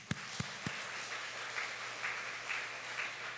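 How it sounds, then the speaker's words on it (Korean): Applause from a church congregation at a 30th-anniversary founding service, a soft, steady patter of many hands with a few sharper early claps, heard faint and at a distance. "박수 한번 쳐주십시오"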